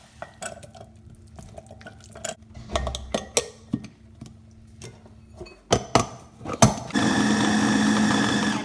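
An electric grinder whirs loudly and steadily for the last couple of seconds as kebab ingredients are ground for Karachi-style bun kebabs, after a stretch of kitchen clatter and knocks.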